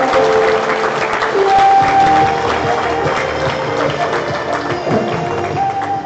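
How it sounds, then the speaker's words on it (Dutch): Applause from a live studio audience at a football show, dense clapping that stays loud across the stretch, with a faint tone and some voices underneath. "Geef een groot applaus."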